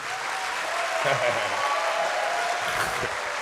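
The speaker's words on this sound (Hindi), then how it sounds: "बेटा जोर से तालियां बजाओ" An audience at the opening ceremony of the Pakistan Literature Festival 2023 in Lahore applauds in a steady, continuous wash of clapping, with faint voices and low murmurs underneath.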